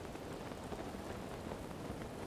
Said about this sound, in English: And why is it raining?